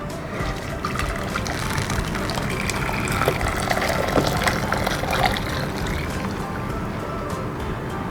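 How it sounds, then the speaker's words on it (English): Soup broth is poured from a pot into a clean saucepan, a steady liquid splashing and trickling sound that continues throughout, close and moderately loud. "then pour your broth back into a clean saucepan"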